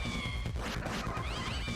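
A cat in a video game meows loudly over dense, busy game sound, a drawn-out caterwauling cry with a second rising yowl toward the end.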